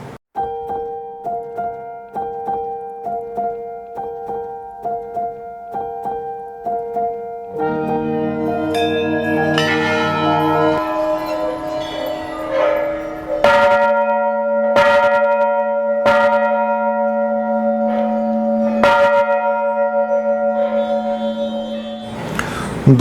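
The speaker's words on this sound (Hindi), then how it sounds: "तो वो यहाँ पर ये सब घंटियाँ बांधते हैं" Temple bells ring at the Golu Devta temple in Chitai, Almora. Several bells strike repeatedly with bright, sustained metallic tones that overlap and build in layers, ringing loud and close with long decaying hums between hits.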